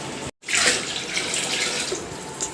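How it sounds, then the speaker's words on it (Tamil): Water pours steadily into a pot for chicken biryani after a brief cut at the start, a continuous splashing stream heard close and alone. "இப்போ அளவு தண்ணி எடுத்து சேர்த்துடலாம்."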